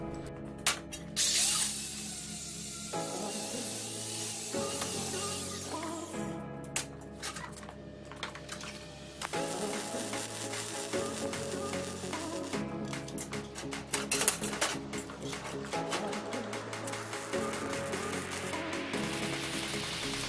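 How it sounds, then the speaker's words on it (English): A Miller 251 MIG welder joins quarter-inch steel J hooks for a squat rack, giving a steady crackling, spitting hiss in several bursts separated by short pauses, fairly close and moderately loud. "And we're using our Miller 251 to weld these up."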